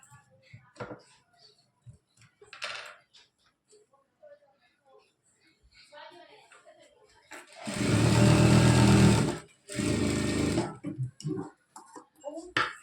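An electric sewing machine stitches the side seam of a lehenga in two steady whirring runs, the second shortly after the first, with someone speaking quietly before and between them.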